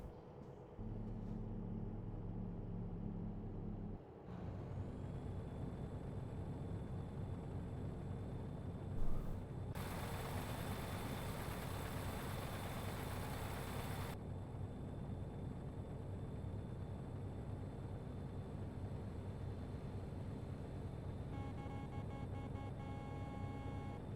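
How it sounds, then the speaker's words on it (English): A truck engine in American Truck Simulator runs with a steady low rumble and drone, with a noisy broadband hiss through the middle stretch; no distinct knocking rhythm stands out. "That horrible knocking noise is weird in this engine"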